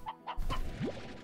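Chickens cluck at a chicken nest in the Slime Rancher video game, a few short clucking calls close up, followed by a brief rising chirp and game noise.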